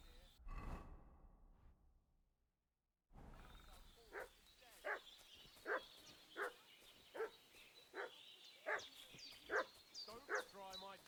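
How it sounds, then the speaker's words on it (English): A dog in the video game Kingdom Come Deliverance 2 barks about nine times in a steady, evenly spaced rhythm at moderate distance, starting after a short silent pause. "What's that dog making such a fuss about?"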